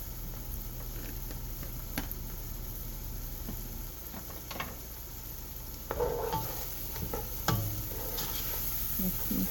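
Okra soup with basil leaf stirred in a pot, a steady simmering sizzle throughout with occasional soft scrapes and clinks of the spoon, growing slightly busier toward the end.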